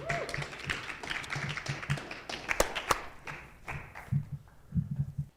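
Audience applause at a storytelling event, scattered claps and taps rising and falling with some murmured voices underneath, moderately loud throughout.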